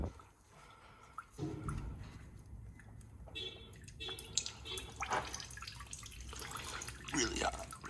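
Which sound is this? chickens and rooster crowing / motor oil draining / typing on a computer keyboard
motor oil draining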